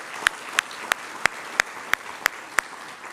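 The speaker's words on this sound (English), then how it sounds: "Give them another round of applause" Audience at a university convocation clapping in a steady, evenly spaced rhythm, about eight sharp claps ringing out one after another over a quiet background.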